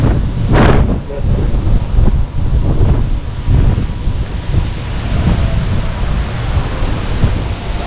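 Gusty wind on the upper deck of the cruise ship MSC Seashore roars across the microphone in continuous low rumbles, rising and falling over several seconds, with a faint wash of sea noise behind it.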